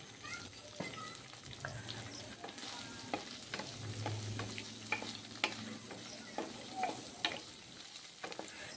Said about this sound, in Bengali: এই যে পনির আকারে কেটে নিলাম, এটাকে আমি হালকা ফ্রাই করে নেব প্রায় 2-3 মিনিটের জন্য